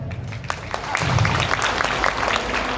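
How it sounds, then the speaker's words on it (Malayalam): An audience applauds at a celebration for a TV serial's 1000th episode, clapping that swells after a second and carries on steadily, mixed with a voice talking over it. "കൈയടി കൊടുക്കാം."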